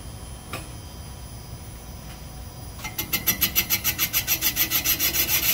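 Boring tool cutting the chamfer of a cylinder bore on a Little Red Express 360 engine block, an uneven interrupted cut giving a steady rhythmic pulsing rasp that starts partway through and stays loud.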